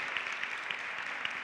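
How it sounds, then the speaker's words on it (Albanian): An audience at a fashion week award ceremony in Albania claps for a prize winner, giving a steady, dense patter of applause across the short stretch. "një duartrokitje për Inesin."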